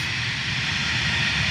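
Jetstar Airbus A320 taking off, a loud continuous roaring jet engine noise with broad hissing rumble, close and steady with no talk.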